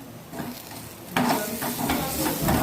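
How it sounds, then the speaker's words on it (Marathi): Sliced onion is stirred in a hot frying pan while making an eggplant bharit. A steady close sizzle grows louder partway through, with scraping stir strokes over the hiss. "थोडंसं परत कांदा पण हलवून घ्यावा"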